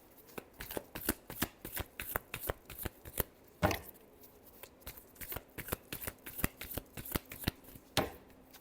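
Tarot cards being shuffled by hand, a quick run of crisp riffling flutters in close succession with brief pauses, up close and alone.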